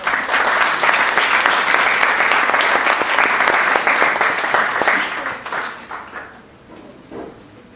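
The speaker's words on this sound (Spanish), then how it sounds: "un aplauso para la magistrada." An audience applauds a magistrate at a legal-principles session, with dense, loud, sustained clapping from many hands that holds steady for about five seconds, then thins out into scattered claps and fades away.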